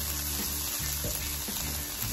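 Ricotta gnocchi being stirred through pesto in a hot pan, giving a steady close sizzle with soft scraping and shuffling from the mixing, and no talking.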